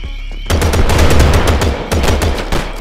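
Rapid automatic gunfire in the Gangster New Orleans video game, starting abruptly and continuing as loud, dense machine-gun bursts with short gaps between volleys.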